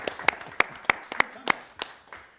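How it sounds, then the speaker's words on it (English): About eight separate, sharp claps ring out at a live radio show for a keyboard player, each a distinct crack spaced roughly a third of a second apart, sparse and fairly close rather than a full crowd. "Give him a round of applause."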